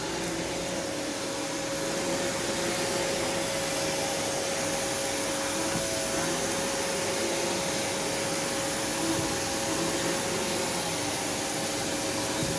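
A Kenmore Progressive vacuum cleaner runs continuously while cleaning a living room, giving a loud, steady whining roar with a constant tone and no pauses.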